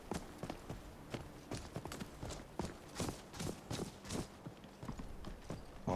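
Horse hooves clip-clop steadily on a road in the video game Skyrim, a brisk, even walking rhythm of close, clear knocks with no voices over them.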